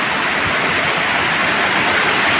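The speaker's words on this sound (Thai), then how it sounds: "โอ้เลยครับน้ำไหลมากครับ" Floodwater pours strongly past a village house during heavy rain and wind. The loud, dense rushing fills every moment, close and unbroken, with no voices.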